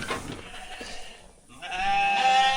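A sheep bleats loudly and close up, a short wavering cry near the end after some softer shuffling and faint animal sounds among a flock of ewes and lambs.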